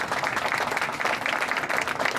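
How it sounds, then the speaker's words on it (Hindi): A church congregation applauds to welcome a guest speaker, a dense steady wash of many hands clapping throughout, fairly close and even in level, with no talk. "क्या एक बड़ी ताली दे के आप इनका स्वागत करेंगे?"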